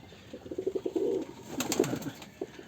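Giribaj pigeons cooing at a pigeon farm, a few soft low coos in a short run followed by a busier burst with brighter chirps and a flutter, moderately near and fairly quiet.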